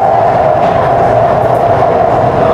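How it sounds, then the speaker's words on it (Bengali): A metro train rushes past at high speed, a loud, steady rumble of rolling wheels and rail noise with a sustained mid-pitched hum. It holds constant and close for the whole stretch, with no talking. "আপনারা দেখেন যে একটা মেট্রো রেল কত স্পিডে চলে"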